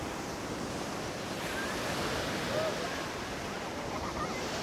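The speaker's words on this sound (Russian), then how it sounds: "Море штормит." Stormy surf breaks along the central beach of the Sea of Azov at Schastlyvtseve, a steady, fairly faint roar of waves mixed with wind buffeting the microphone.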